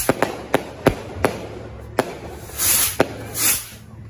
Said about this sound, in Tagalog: marami pa rin ang gumagamit ng paputok sa pagsalubong sa bagong taon